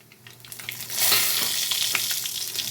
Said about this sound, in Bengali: এখন ফুরনটাকে আমি এক থেকে দু সেকেন্ড একটু ভেজে নেবো